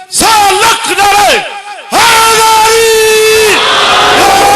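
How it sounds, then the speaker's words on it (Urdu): A large gathering at a religious majlis loudly chants Naara-e-Haidari and Ya Ali in unison, two long drawn-out rising and falling calls, close and powerful with overlapping voices. "مجلس میں نعرہ حیدری لگاتے ہیں"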